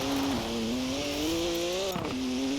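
A BMW M4 fitted with police lights drives in a Forza Horizon 4 race, its engine droning loud and steady with the pitch rising and then dropping sharply at a gear change before settling again.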